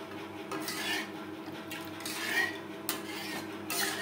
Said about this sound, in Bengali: দুধের সাথে বেশ ভালো করে মিক্সড করে দেব